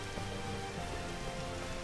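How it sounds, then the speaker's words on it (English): Steady rain falls in the Final Fantasy XV game world, a continuous soft hiss of drops pattering on surfaces, even and unbroken at low level with no voices. "It's raining."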